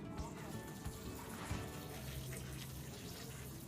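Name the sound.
watering succulents in a clay pot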